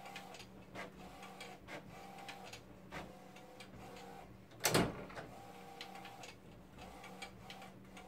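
An HP T120 large-format printer runs steadily after a printhead replacement, a close mechanical hum with repeated ticks and soft clunks of the moving carriage, and one sharp loud clack partway through.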